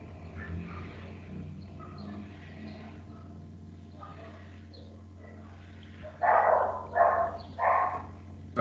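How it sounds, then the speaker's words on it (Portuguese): A dog barks angrily at a passing vehicle, first some muffled yips and whimpers, then three loud, close barks in quick succession near the end. "O cachorro tava bravo aí com o barulho do."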